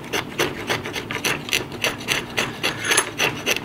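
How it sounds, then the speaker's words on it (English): A spokeshave shapes a small shallow musky bait carved from soft wood, giving a steady series of about a dozen close, raspy scraping strokes in an even rhythm, with no voices. "It's such a small bait to do with a spoke shave."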